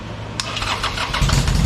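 A Harley-Davidson motorcycle cranks and fires up, and the engine catches into a loud, rumbling, close running note within about a second.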